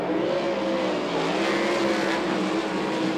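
360 sprint cars race on a Las Vegas dirt track at a USAC West Coast event, with a continuous loud roar of several engines at full throttle, heard from a distance with no pause.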